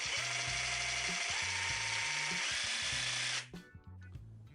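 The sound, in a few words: Excel 18V cordless jigsaw cutting, speed varied by trigger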